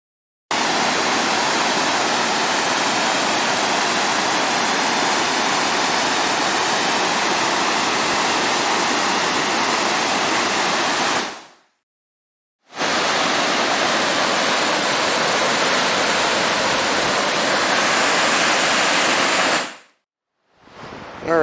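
Steady broadband rush of a mountain river in Oregon, loud and constant, broken by two brief silent gaps.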